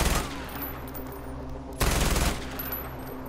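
Rapid gunfire from the Far Cry 4 video game, with repeated shots in bursts and a sharp, loud volley starting midway through. No one speaks.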